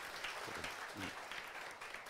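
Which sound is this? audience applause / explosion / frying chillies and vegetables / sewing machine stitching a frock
audience applause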